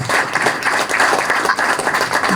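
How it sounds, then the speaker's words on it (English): Dense applause from a political rally audience honoring a party president, loud and continuous, with some crowd noise mixed in. "Can we give our president another round of applause?"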